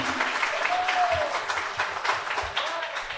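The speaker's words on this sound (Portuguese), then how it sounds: "Uma salva de palmas para o Miguel" Church audience applauding Miguel at an evening café-style show, a steady patter of clapping filling the room at moderate level, with voices mixed in.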